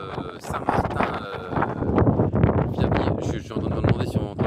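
Wind buffets a microphone outdoors on the island of Saint-Martin, a loud, gusty roar that surges unevenly and keeps going throughout.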